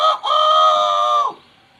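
A man imitates a morning rooster crow with his voice, one loud, sustained, close call that rises briefly and then holds steady before cutting off.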